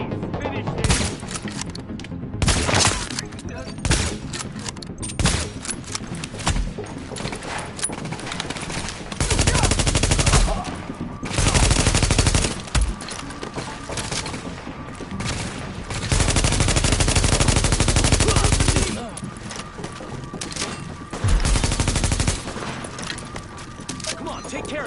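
Heavy gunfire in The Division during a burning mission, with sustained automatic bursts and loud volleys rolling nearly continuously, surging into dense blasts several times while voices shout over the shooting.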